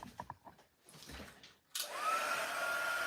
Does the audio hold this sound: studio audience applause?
no